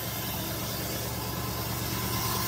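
A 1964 Pontiac Parisienne engine idles on a freshly rebuilt carburetor, a steady, dense, even rumble running unbroken and fairly close, with no voices over it.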